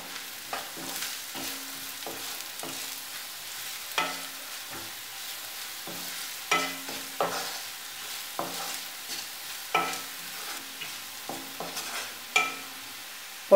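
Turmeric, chili, black pepper and masala powders fry in a hot pan for a Kerala dish, with repeated scraping stirs in an uneven rhythm over a soft, steady sizzle, close and with no talking.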